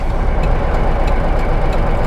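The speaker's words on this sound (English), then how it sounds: "it's not idling great. It's like it feels a little bit lumpy" A Porsche 912 engine idling roughly and a little lumpy, a steady, loud low rumble with uneven pulsing throughout, heard alone with no talk.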